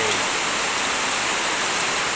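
Heavy rain pours down in Pattaya, Thailand, a dense, steady hiss and roar that fills the whole clip without a break. No voices are heard.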